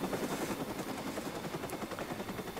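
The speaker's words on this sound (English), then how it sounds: "Ah shit, it's the helicopter." Helicopter in the game Watch Dogs: a continuous rapid rotor thudding with a steady engine drone, loud and close, with no other sounds over it.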